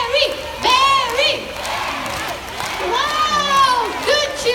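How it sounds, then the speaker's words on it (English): Audience at the Jurong Bird Park bird show cheering for Barry the green-winged macaw: loud, excited crowd shouts and children's yells that rise in waves. "Wow, good cheering."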